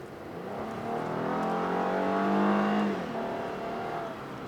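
Engine of a 2017 Genesis G80 luxury sedan with a 3.8-liter V6 pulling hard, a steady rising drone that climbs in pitch for a few seconds, then eases off, heard from inside or near the car without talk.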